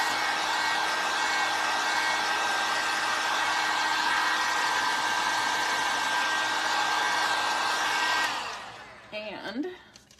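Hair dryer blowing on a painted canvas at a steady, loud, high whine for about eight seconds, then switched off and winding down, with a few faint handling noises afterward.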